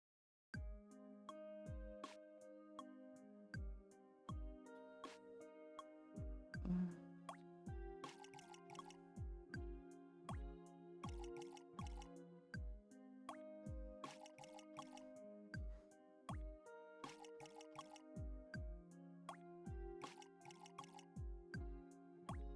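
Steady run of plinking water drips and soft plops from sprouts being watered in a farming video game, repeated in quick rhythmic bursts over a bright tonal game music bed, with no talking.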